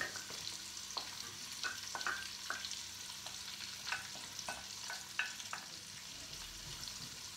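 Ginger and garlic fry in a pan for a Trinidadian vegetable curry, a steady sizzling hiss broken by occasional scraping stirs of a utensil, close and moderately quiet, with no voices.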